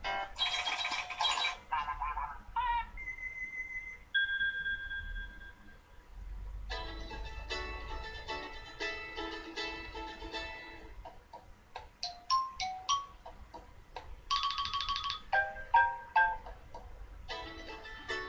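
An iPad 2 ringtone plays alone: a quiet sequence of bright chiming, ticking and bell-like tones in short bursts and pauses, with sparkling high notes scattered through.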